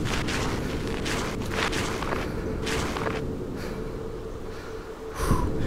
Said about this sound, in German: Boah, ist mein eigenes Atmen.